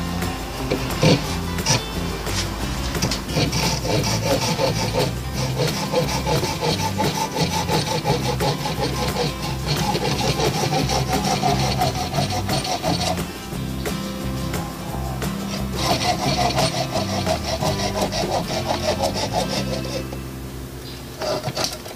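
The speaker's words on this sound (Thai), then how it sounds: "ตัวนี้ก็จะเป็นเลื่อยสำหรับตัดกิ่งไม้นะครับมาเดี๋ยวลองใช้งานดูนะครับ" A hand pruning saw cuts through a wood branch with continuous, rhythmic rasping strokes. The sawing is close and loud and runs for the whole stretch without pause.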